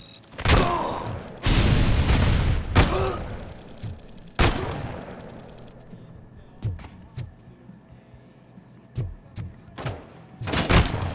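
Gunfire in the video game Robocop: Rogue City: heavy bursts of automatic fire and booming shots in clusters, then scattered single shots, loud and close, with a voice briefly heard.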